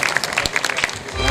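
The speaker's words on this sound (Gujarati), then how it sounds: "આપ સૌ તાળીઓથી છે વધાવશું." Brief burst of audience clapping at an annual festival award ceremony, dense and steady through the short span with a slight swell at the end.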